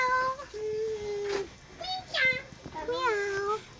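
A voice imitates a cat's meow in several drawn-out, wavering cries, close and fairly loud, separated by short pauses.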